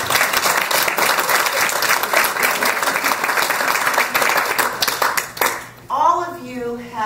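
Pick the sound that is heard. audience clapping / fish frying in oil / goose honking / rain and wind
audience clapping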